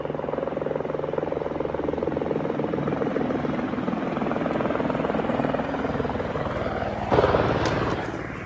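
A rescue helicopter hovers close by during a mountain search operation, its rotor thudding continuously and loudly, with a slight surge in pitch near the end.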